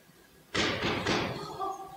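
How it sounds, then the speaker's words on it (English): A single loud thud, likely a knock, strikes on a door as a stage sound effect during a theatre performance of Macbeth, followed by a brief ringing tail. "I hear knocking in the south entry."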